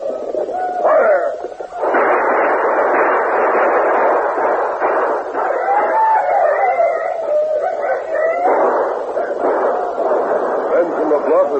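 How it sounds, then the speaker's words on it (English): A radio drama battle carries continuous loud gunfire and heavy booming, dense and close throughout, with dog-like howls and shouting mixed in. "Keep firing."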